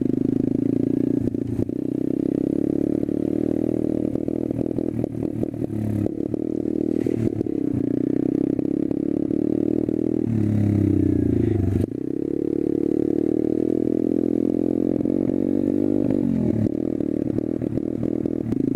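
A dirt bike engine drones and revs continuously at close range, its pitch rising and falling as the rider throttles, with scraping and rattling mixed in.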